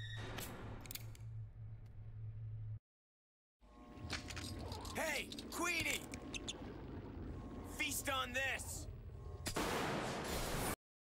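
Gunfire in the Resident Evil Zero video game: several sharp, loud shots cracking out in bursts with ringing tails, separated by gaps of near silence, a person talking between them.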